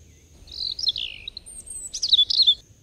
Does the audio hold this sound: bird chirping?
yes